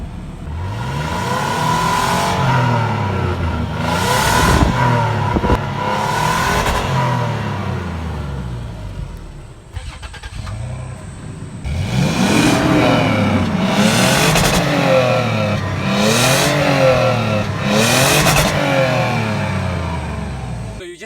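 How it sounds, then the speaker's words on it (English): Toyota Fortuner and Toyota Prado 4.0-liter V6 engines revving up close, with repeated loud throttle blips rising and falling in pitch, a brief idle pause in the middle, then another series of sharp revs. "They are both 4-liter V6 engine, but they have different specs."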